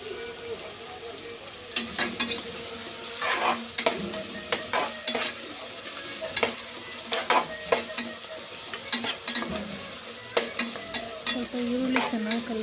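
Onion and tomato frying in a pan for menthya palav while being stirred, with a steady close sizzle broken by repeated scraping strokes of a spoon against the pan.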